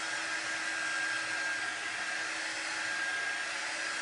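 A handheld heat tool blows hot air onto a chalk transfer laid on a Tractor Supply item, giving a steady, loud, unbroken whoosh of airflow with no voices over it.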